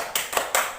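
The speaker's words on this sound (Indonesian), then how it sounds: "Tepuk hebat." Children clap together in rhythm in a primary classroom, three sharp group claps close by, forming a short patterned cheer.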